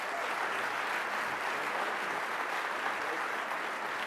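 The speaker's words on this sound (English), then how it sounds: "Give the group a round of applause." Audience applause for finalists at a CFO of the Year awards event in Chicago, a dense, even roar of many hands clapping, heard fairly quietly and at a distance, continuous throughout.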